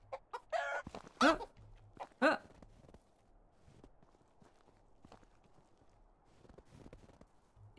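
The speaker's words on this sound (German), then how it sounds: "wo sind unsere Hühner? Sind die jetzt da oder sind die nicht da?" Chickens in the Medieval Dynasty video game give a few loud, sharp clucking bursts in the first seconds, then fade to soft scattered footsteps and faint ambient noise.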